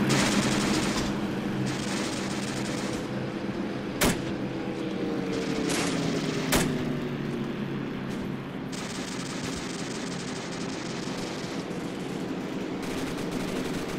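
Anti-aircraft guns fire at a Spitfire during an airfield defence in ArmA II, with rapid continuous bursts stopping and starting over a steady engine drone, plus two sharp louder cracks.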